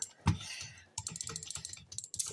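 Quick, sharp computer mouse clicks during a Bedwars game come in a dense, uneven burst close to the microphone, with no voices.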